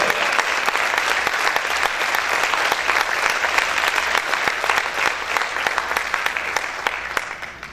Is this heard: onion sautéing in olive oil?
no